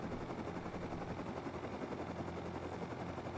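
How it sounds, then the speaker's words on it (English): A helicopter in the video game Rust flies low, its steady rotor thrum holding at a constant level throughout with no voices over it. "I love the helicopter"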